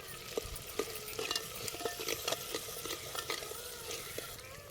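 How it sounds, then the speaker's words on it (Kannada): Masala for a village-style chicken sambar sizzles in a pan while being stirred, with irregular scraping knocks of the spoon over a soft, steady frying hiss. "ಮಸಾಲೆ ಎಲ್ಲ ಚೆನ್ನಾಗಿ ಹಿಂಗೆ ಹುರಿಯಾಕತ್ತೈತಿ"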